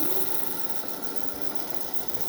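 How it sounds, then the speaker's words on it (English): An electric motor on a converted go-kart runs as the throttle is turned up, giving a steady high whine and hiss with a faint underlying hum, continuous and fairly quiet. "I turn the throttle up."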